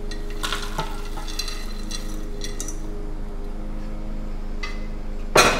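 Vegetables clatter into a saucepan with a little water and get stirred, with scraping and light clinks, then a sharp metallic knock near the end. No one speaks.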